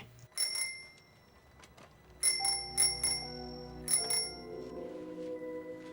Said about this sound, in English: Ringing my bell.